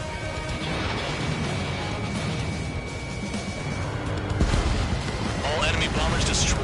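Enemy bombers go down in the flight combat game Ace Combat, a dense roar of crashing impacts and explosive bursts that swells louder near the end, with game voices speaking over it.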